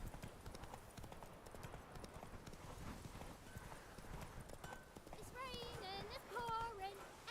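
Roach the horse trots along in The Witcher 3 with steady clip-clopping hooves in a quick rhythm, faint under game music and ambient sound, with a brief voice near the end.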